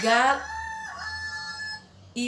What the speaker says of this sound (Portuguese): galo cantou.